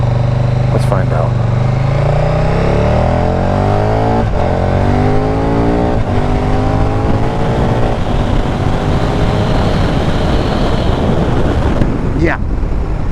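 A 2017 KTM 1290 Super Duke GT motorcycle engine rumbles while riding at low speed, its pitch rising and falling through gear changes under steady wind buffeting, with a rider talking over it.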